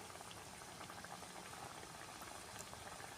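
Sesame vada sizzling and bubbling in hot oil in a village kitchen pan, a steady, dense, faint frying crackle throughout with no voices.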